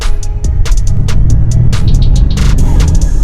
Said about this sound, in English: let's see if you can pick up the sound of the fake exhaust